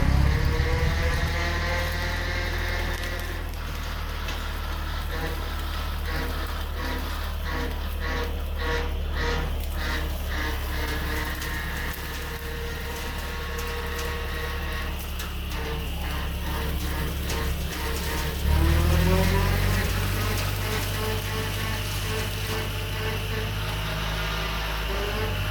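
Tractor brush hogging a field for food plots, its engine droning steadily with a rattling mechanical clatter from the mower, rising and falling slightly over a long continuous stretch, alone without talk.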